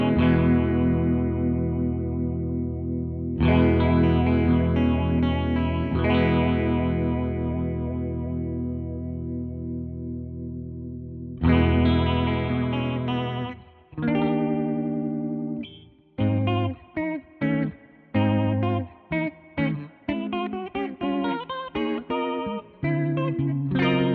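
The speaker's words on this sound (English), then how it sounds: "There's also a vibrato," Electric guitar through a Beetronics Larva Morphing Phaser pedal set to vibrato, with sustained wavering chords giving way to choppier, rhythmic strummed stabs, loud and alone.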